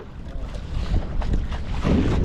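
Strong wind at sea buffets a fishing boat, a loud, gusty rumble with rushing noise that swells and eases and grows heavier toward the end.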